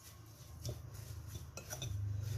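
Spices being mixed for karhi pakora, with metal clinks and scrapes of a spoon against a bowl or dish breaking up a low steady hum; a few distinct taps stand out near the start and in the middle.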